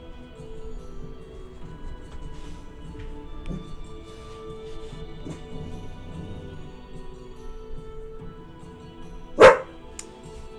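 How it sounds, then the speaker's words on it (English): A pet dog gives a single loud, sharp bark near the end, after a long stretch of quiet room tone. "Sorry, that's my dog. What are you barking at, girl?"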